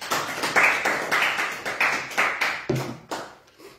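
A church congregation claps in praise, producing a close, regular rhythm of about a dozen sharp hand claps that slow and fade near the end, with no cheering evident.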